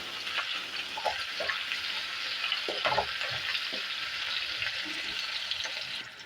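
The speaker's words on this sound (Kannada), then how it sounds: "ಸ್ವಲ್ಪ ಈರುಳ್ಳಿ ಹಾಕ್ತಾಯಿದ್ದೀನಿ. ಚೆನ್ನಾಗಿ ಸ್ವಲ್ಪ ಈರುಳ್ಳಿ ಫ್ರೈ ಆಗಿದೆ" Chopped onions fry in hot oil in a pan for bisi bele bath, a steady close sizzle with a few soft stirring scrapes and no voices.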